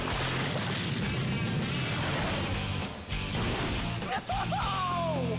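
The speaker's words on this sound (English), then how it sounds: "it's Benson's and it just shatters the car" A cartoon car in Regular Show is shattered by a falling turducken. A loud, dense crash of breaking glass and metal fills the clip, followed near the end by a few brief whooshing or squealing effects.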